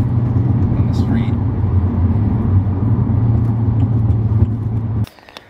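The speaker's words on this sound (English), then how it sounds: "hopefully you guys could hear how loud this thing sounds inside the car when I'm just casually driving and on the highway" Steady, loud low-frequency exhaust drone and road rumble inside a BMW E90 328i with a dual exhaust conversion cruising at about 70 mph on the highway, ending abruptly.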